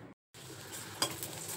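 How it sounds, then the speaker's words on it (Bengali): Salted, turmeric-coated eggplant slices fry in hot oil in a home kitchen, giving a steady soft sizzle after a brief silent gap, with one faint clink partway through. "বেগুন ভাজা চলছে"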